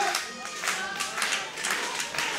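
A wrestling crowd claps and cheers steadily at an Action Clash event, with rhythmic clapping bursts pulsing over a sustained roar of voices throughout.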